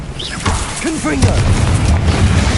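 A blasting Confringo spell in the Hogwarts Legacy video game booms loud and close, its heavy, rumbling low impact overlapping shouted voices and scattered sharp effects.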